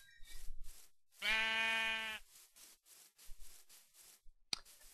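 A single sheep bleat from the video game Minecraft, clear and nasal, rings out between soft scattered clicks and footstep-like taps, with a sharp crack near the end.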